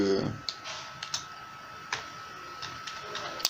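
Scattered keyboard clicks tapping at an uneven pace, fairly faint and close, with a brief low murmur at the very start.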